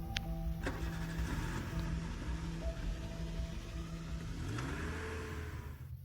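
A car engine cranks and catches, then settles into a running hum that swells as the vehicle pulls away, heard close and fairly loud with faint clicks at the start.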